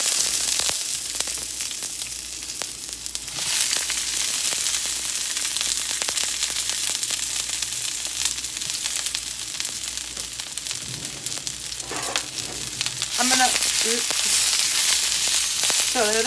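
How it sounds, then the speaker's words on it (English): Vegetables for fajitas sizzle and fry in hot oil, a steady loud crackling hiss that runs throughout, with brief clatter of stirring and a voice speaking near the end. "So I'm just going to grab the rest of my veggies and throw them in there."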